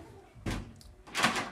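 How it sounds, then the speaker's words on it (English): A household door is pushed shut in two soft knocks, a dull thump and then a firmer close, fairly near and quiet, with no voices. "Close the door, please."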